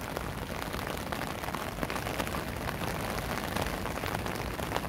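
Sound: heavy rain falling on a river

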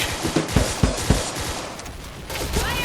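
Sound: gunfire from video game Point Blank

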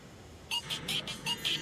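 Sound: dialing a telephone

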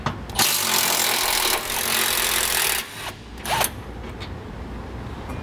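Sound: socket wrench removing jounce bumper bolts

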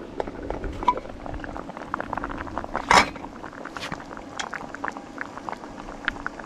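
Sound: water boiling on electric stove powered by solar power station

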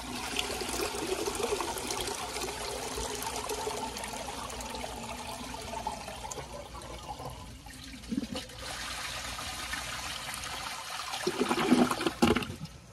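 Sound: 2002 Sanitarios Maracay toilet flushing with handle held

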